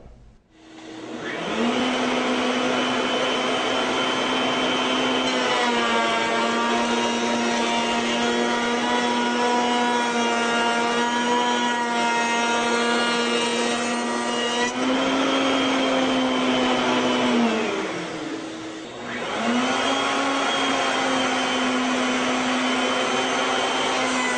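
A router table with a router bit cuts a raised cabinet door panel, a loud high whine that dips in pitch as wood feeds through, briefly drops near the end, then spins back up, with no talking.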